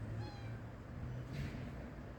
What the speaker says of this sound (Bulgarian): Черно коте.